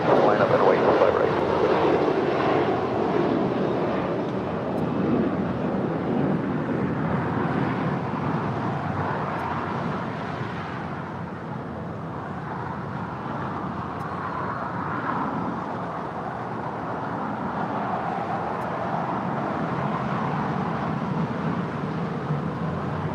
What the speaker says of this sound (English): that A330-300 in the Star Alliance livery, flight 790, heading back to Toronto